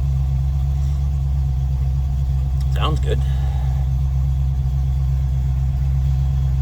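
A 1993 Land Rover Defender 110 with a 4.2L engine idles in a steady, low, close rumble throughout, while a person speaks briefly over it.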